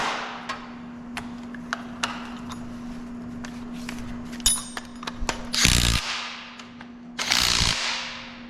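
A 15 mm bolt is tightened on a power steering pump in an LS-swapped 1980 Chevrolet K10 pickup, with sharp metallic ratchet clicks and taps over a steady hum, ending in two louder bursts of tool noise.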